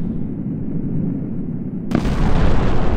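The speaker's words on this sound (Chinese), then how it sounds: "哦，爆炸了！" A weapon strikes a planet in the space-destruction game Solar Smash, giving a loud, continuous roaring blast that surges and grows harsher about two seconds in.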